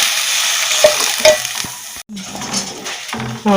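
Fried vermicelli sizzling and being stirred in a pan for semiya payasam, then a sudden hush and a splash as cooled milk is poured in, followed by softer bubbling and a utensil clink, close and fairly loud.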